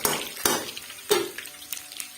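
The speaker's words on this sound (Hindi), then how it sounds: "और लहसुन का हम इसको तड़का लगाएंगे।" Ginger sizzles in hot desi ghee for a tadka, with a soft crackling fry broken by a few sharp clinks of a spoon against the pan.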